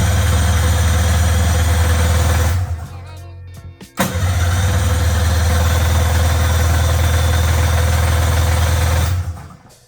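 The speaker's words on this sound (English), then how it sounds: "Let's see if it'll run without starting fluid." A carbureted snowmobile engine runs loud and steady, sputters down and nearly dies, then catches again with a sharp restart and keeps idling before cutting off near the end.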